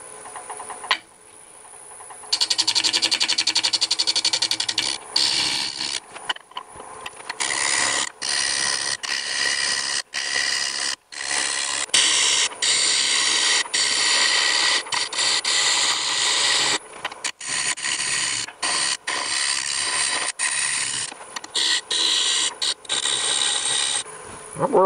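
A wood lathe spins a cherry bowl at almost 700 RPM, mounted in a chuck on a turned tenon, while a 5/8 inch bowl gouge cuts it in a loud, continuous rasping scrape broken by brief gaps as the tool lifts away.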